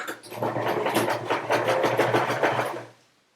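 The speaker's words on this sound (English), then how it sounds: "So you're going to first sew the curved edge, okay, along here." A sewing machine runs a regular straight stitch along the curved edge of a cotton or poly-cotton face covering, a steady close mechanical whirring with rapid needle chatter that stops at the end.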